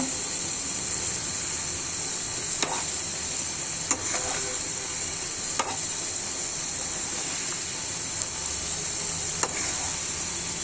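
Bean, potato and tomato fry with a little five-spice powder, stirred in a pan: a constant close sizzle and hiss, broken every second or two by a sharp scrape or tap of the spatula.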